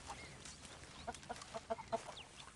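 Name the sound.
chickens clucking in Red Dead Redemption 2 video game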